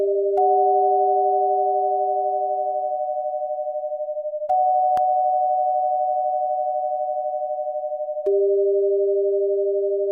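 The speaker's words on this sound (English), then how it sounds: "Let's add our binaural beats back in." Pure steady sine tones generated in Pure Data, held in pairs slightly detuned so they pulse as binaural beats, with the pitches shifting at a few points and soft clicks at the changes.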